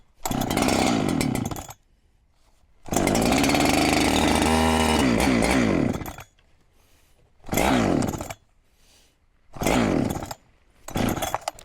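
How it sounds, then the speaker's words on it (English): A chainsaw cuts firewood in several loud, close bursts: a long howling run with revving pitch swings, then shorter cuts separated by quiet pauses. "Hopefully, this saw A starts and B is sharp."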